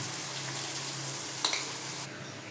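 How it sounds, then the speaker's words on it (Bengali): Onions fry in a pan with whole garam masala and chilli, giving a soft, steady sizzle close by, with a brief stir or scrape near the middle and no talking. "পেঁয়াজটা ভাজা ভাজা হচ্ছে"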